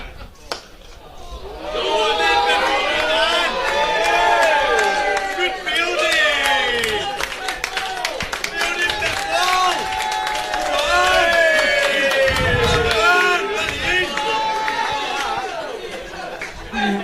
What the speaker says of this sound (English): Worcestershire crowd certainly enjoying the fielding mishaps by the Birmingham Bears this afternoon